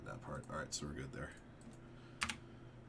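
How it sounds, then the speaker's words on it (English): An outrageously loud computer keyboard clatters in quick bursts of keystrokes, with a couple of sharper clicks near the end, while a person talks over part of it. "The outrageously loud keyboard."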